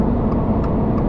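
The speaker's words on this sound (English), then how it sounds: "Hopefully you can get an idea of that highway noise I was referring to." Steady broadband highway road noise inside a moving Toyota GR86, a constant low rumble and tire roar with no pauses.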